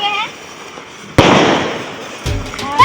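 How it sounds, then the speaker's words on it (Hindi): Diwali firecrackers burst nearby in a loud sharp crack followed by a long crackling roar, with a second burst near the end and festive street noise and voices around them. "इस वक्त आप आसमान में जहां जहां भी देखेंगे वहां वहां पटाखे ही पटाखे।"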